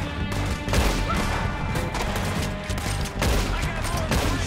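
Gunfire in Red Dead Redemption 2 during a chaotic shootout: repeated loud shots and rapid volleys ring out close, with crashes and echoes layered over constant battle noise.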